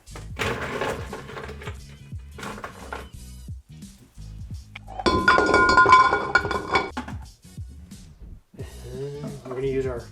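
Glassware clinks and rattles as ice cubes tumble into a rocks glass, a bright burst of clattering between stretches of talking.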